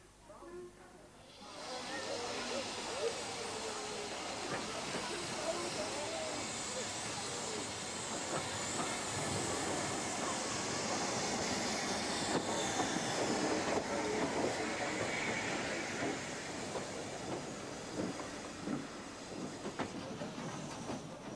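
Steam locomotive Kolhapur pulling away from a heritage railway station toward Rothley, with a steady loud hiss of steam and rolling train noise that continues throughout, plus faint background voices.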